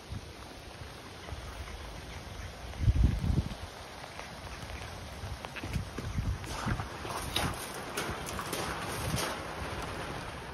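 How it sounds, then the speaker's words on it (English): Rain falls outdoors beside a bird aviary, a steady soft hiss and patter with gusty wind buffeting the microphone, a few louder low thumps and scattered drips, and no talk. "Can we get out of the rain, please?"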